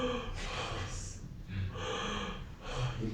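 A mime imitates an astronaut breathing inside a helmet, making slow, heavy, hissing inhales and exhales in a steady rhythm, close and fairly loud.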